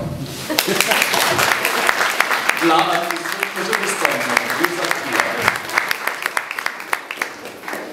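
Audience applause at a patriotic concert marking the 100th anniversary of Polish independence in Mierzeszyn on 11 November 2018. Steady, dense clapping fills the room throughout while a voice speaks over it.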